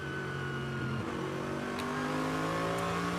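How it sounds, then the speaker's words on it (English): A Mercedes-AMG GT3 race car engine revs continuously at a steady, loud pitch at the Nürburgring, shifting tone partway through, with no talking. "the engine noise you can hear in the background is that of the Get Speed AMG GT3"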